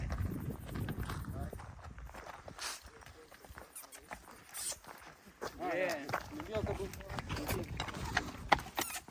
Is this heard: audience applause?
no